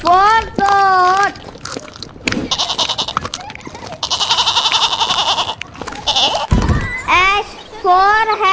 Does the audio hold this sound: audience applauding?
no